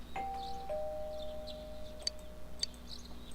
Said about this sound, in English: This thing is a doorbell?